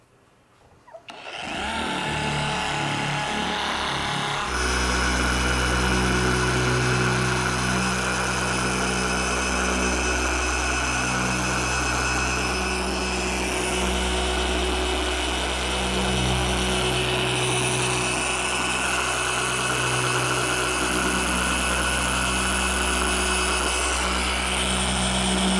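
A Kobalt 24V brushless 6-inch orbital polisher spins up after a brief start and then runs continuously at a steady, loud whine with a strong hum, close to the listener.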